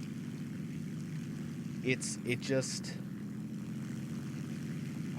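A Heinkel He 51 biplane engine in the War Thunder video game drones steadily at a low pitch throughout, while someone talks briefly over it.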